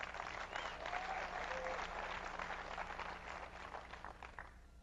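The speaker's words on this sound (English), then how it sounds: "give yourselves another big round of applause" Faint, distant applause from a chiropractic seminar audience, a soft continuous patter that thins toward the end, with a few faint tonal sounds and no clear talking.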